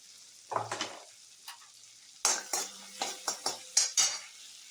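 Four or five finely chopped garlic cloves cook in butter in a pan, sizzling softly while a spoon stirs, with a quick run of close metallic scrapes and clinks in the second half.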